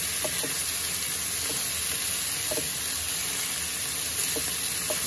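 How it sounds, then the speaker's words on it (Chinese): Lamb ribs rubbed with pepper, salt and olive oil frying in a pan give a soft, steady sizzle, with a few faint clinks now and then. "然后放在锅里头煎，就像我这样煎。"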